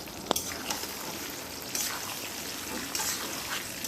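Mango pieces for pickle frying in mustard oil in a pan, a dense close crackling sizzle with a couple of brief stirring clanks.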